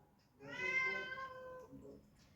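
A mother cat lets out one drawn-out, tonal meow, fairly close and moderately loud, in a quiet home setting with faint background noise.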